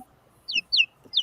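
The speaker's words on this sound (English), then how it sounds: "I hear chickens." Chickens give three short, high chirping clucks in quick succession, fairly close and otherwise quiet, with no talk alongside.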